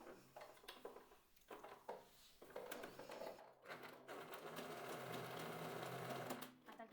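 A sewing machine bar-tacks the end of a bra strap on lingerie fabric, running in short stop-start bursts before settling into a steady continuous whir, close and moderately loud.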